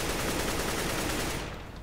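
Automatic gunfire in a CS:GO recoil training room, a loud rapid burst of game shots close up that runs continuously for over a second before quickly fading.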